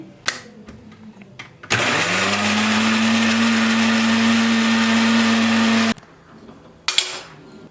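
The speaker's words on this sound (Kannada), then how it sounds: "ಟೊಮೆಟೊ ಶುಂಠಿ ಬೆಳ್ಳುಳ್ಳಿ ಗೋಡಂಬಿ ಇಷ್ಟನ್ನು ಹಾಕಿ ನಾನು ಫೈನ್ ಪೇಸ್ಟ್ ಮಾಡ್ಕೊಳ್ತೀನಿ" A mixer grinder jar purees tomato, ginger, garlic and cashews into a fine paste, running as a loud, steady motor whine for about four seconds, with quiet kitchen clatter just before it starts and after it stops.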